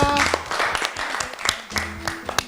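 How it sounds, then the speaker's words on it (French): An audience applauds at a children's show marking 60 years of the DRC, with a burst of clapping and cheering that is mixed with voices and rises and falls over a couple of seconds. "On acclame très très très fort."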